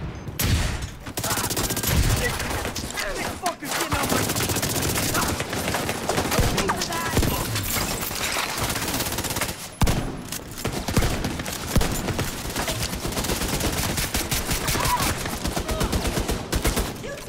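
Dense, continuous automatic gunfire from a turret and weapons in the shooter game The Division 2: Warlords of New York, rattling hard and loud with only brief pauses throughout.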